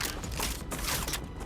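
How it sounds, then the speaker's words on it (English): Weapon reloading in the game StarRupture, a brief burst of mechanical clicks and ratcheting metal, close and fairly loud. "Reloading."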